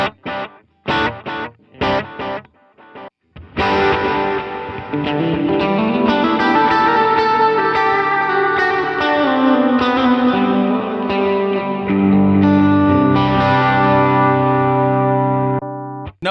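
Electric guitar played through Airstep TX pedal presets with delay and reverb: a few sharp muted strums, then sustained chords ringing out with echoing repeats and a long reverberant wash, loud and alone.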